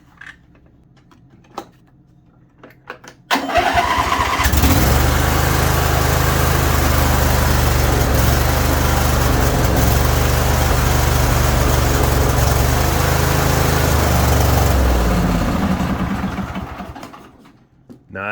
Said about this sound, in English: I'm gonna try to start this thing.